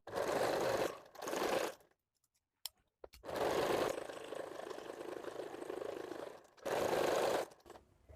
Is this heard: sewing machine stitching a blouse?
yes